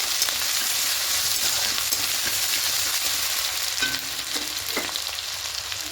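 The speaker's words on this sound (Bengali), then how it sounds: "পেঁয়াজ থেতো করাটা দেবো। একটু হালকা করে ভেজে নেব।" Crushed onion frying lightly in a pan for a Bengali doi katla fish curry, a steady broadband sizzle throughout with a few soft stirring scrapes near the end, no voices.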